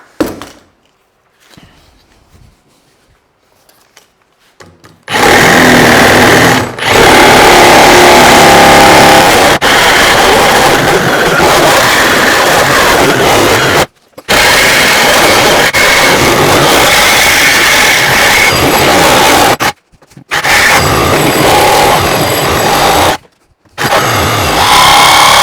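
A Milwaukee Sawzall fitted with a well-worn carbide-tooth AX blade saws through timber, nails and screws, a loud, harsh reciprocating roar close up that runs in long sustained stretches after a quiet start, broken by a few brief pauses.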